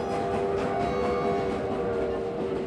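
A train rumbles past with a steady low roar and a sustained tonal hum, constant and fairly close with no voices.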